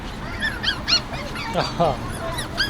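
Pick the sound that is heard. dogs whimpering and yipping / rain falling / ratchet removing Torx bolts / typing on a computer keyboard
dogs whimpering and yipping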